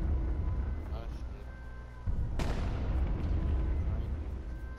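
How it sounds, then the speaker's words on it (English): One sharp, loud sniper rifle crack from the battle royale game H1Z1 rings out midway and decays into a rumbling tail, over steady game ambience and voices talking. "I hit one with the sniper."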